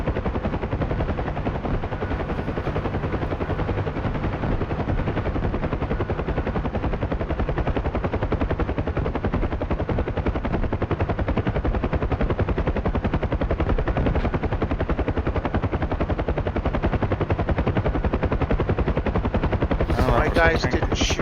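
A UH-1H Huey helicopter in DCS takes incoming green tracer fire, with a loud, steady rotor and turbine roar filling the whole stretch and dense, rapid bursts of gunfire blending into it, close and continuous.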